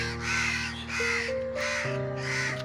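A crow caws loudly and close, four harsh calls in a slow, even rhythm, while a steady tonal hum runs underneath.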